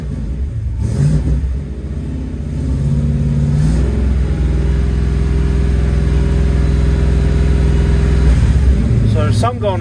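A 1969 Dodge Charger fitted with a swapped-in Hellcat engine idles loudly and close, then revs up in several rising pulls and holds a steady high drone, while someone talks over it.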